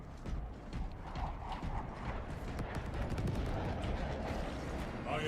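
Fireworks go off around the player in a Siege Mode solo match, a dense, continuous barrage of overlapping thumps and crackles filling the scene without any speech.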